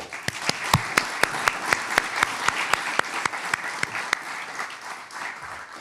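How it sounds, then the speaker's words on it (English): Audience applause after a welcome address, a loud crowd clapping steadily for about five seconds with sharp individual claps standing out, tapering slightly at the end. "I just would love for everybody to give a round of applause to our team"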